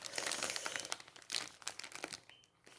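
Plastic sachets of diamond painting beads crinkling and rustling close up in quick handling bursts, then tapering off into quieter scattered crackles.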